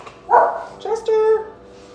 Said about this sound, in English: Chester's starting to bark.